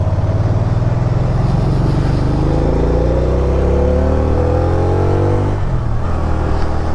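Engine of a 2010 Can-Am Spyder RT SM5 manual three-wheeler revving loud and close, pitch climbing through the rev then dropping off sharply near the end, with steady idle rumble around it.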